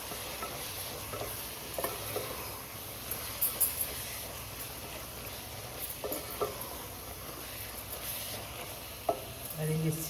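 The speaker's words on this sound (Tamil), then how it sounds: "அப்புறம் எடுத்து வச்சுருக்க வத்தல் பொடி மல்லிப்பொடி சிக்கன் மசாலா எல்லாத்தையும் போட்டு நல்லா கலந்துக்கலாம். நல்லா வதக்கிக்கலாம் ஒரு 5 நிமிஷம்." Chicken sautéing in a pan with chili powder, coriander powder and chicken masala, giving a steady low sizzle with occasional scraping stirs and light clinks of a spoon throughout.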